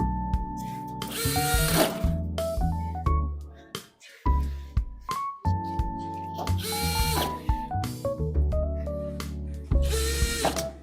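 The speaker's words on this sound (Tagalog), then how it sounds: "i-screwhan lang natin po yung mga part na yan para di gumagalaw yung back panel" A power tool drives screws into a steel cabinet back panel in repeated whirring bursts that rise and fall in pitch, separated by short pauses with light handling clicks.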